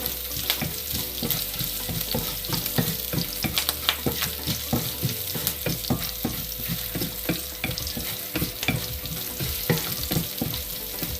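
Crushed garlic cloves fry in a pan with a constant sizzle, broken by frequent sharp scrapes and clicks of a spoon stirring against the metal.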